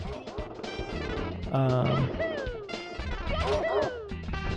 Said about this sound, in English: That's supposed to be a dog. The Bow Wow Chain Chomp.